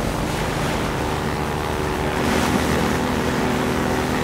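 Airboat from the game Half-Life 2 under way, its engine a loud, continuous roaring drone mixed with rushing water and wind, steady throughout with a slight surge midway.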